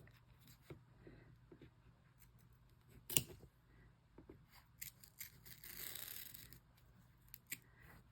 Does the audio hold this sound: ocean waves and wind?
no